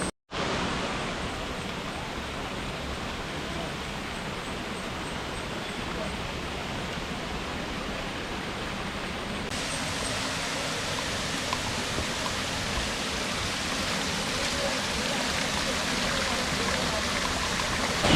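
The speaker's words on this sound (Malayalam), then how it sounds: "ഞാനിപ്പം അരുവിക്കുഴി വെള്ളച്ചാട്ടത്തിൻ്റെ ഏറ്റവും താഴെ വന്നിരിക്കുകയാണ്" Aruvikuzhi waterfall roars from its base, a dense, steady rush of falling water that fills the whole scene, loud and unbroken, growing slightly brighter partway through.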